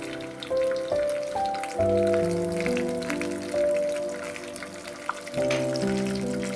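Green and red chillies fry in oil for a tempering over low heat, giving a steady soft sizzle beneath sustained tonal background music throughout.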